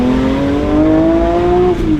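Porsche 911 S/T sports car driving in snow, a loud close engine drone holding steady with a gentle rise in pitch before easing off, no talk.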